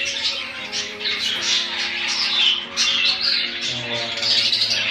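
African lovebirds squawk and chatter continuously in an aviary, a dense flock of harsh overlapping calls and chirps close by with no pauses.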